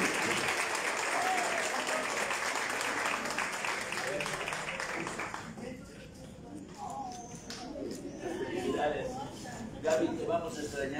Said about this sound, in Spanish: el ciudadano Fernando Remes Garza, que se escuche la ovación.